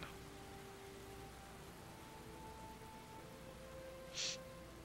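Rain in the Heavy Rain video game, a steady quiet wash of falling rain with a faint low hum underneath, continuous with a brief brighter burst near the end, no voices.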